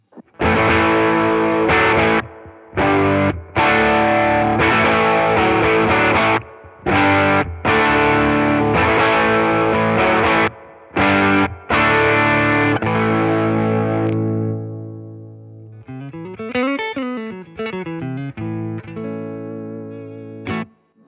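A distorted electric guitar on the bridge humbucker through a Fender Tone Master Deluxe Reverb amplifier plays chunky chords in short bursts with brief gaps, then sustains and bends into wavering notes; no talking.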